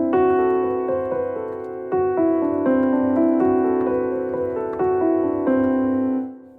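A melodic line on a pitched instrument, sustained and clear, steps through a C Lydian scale with a flattened fifth in about eight connected notes, ringing loud and alone before fading at the end.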